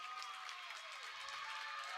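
The Hankinson crowd at a district volleyball championship in Foreman keeps up a sustained, even round of clapping, slightly distant, with faint voices mixed in.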